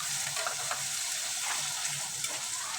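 Spice paste with small shrimp and onion sizzles in hot oil as it is stirred, a close, steady crackle with soft scraping strokes throughout.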